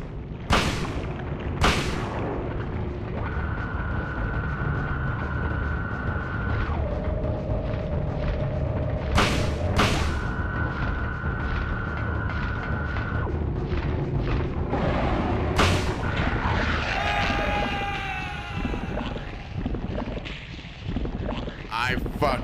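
Gunfire in the Resident Evil 7 video game: several sharp loud shots punctuate a dense, rumbling game soundscape with sustained tones in between.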